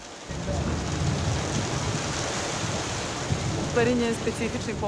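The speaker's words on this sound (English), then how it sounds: "Not even a small thunderstorm can end the evening." Steady rain pours down during a small evening thunderstorm by the Danube, a dense hiss with low rumbling underneath and a brief tonal sound near the end, continuous and moderately loud.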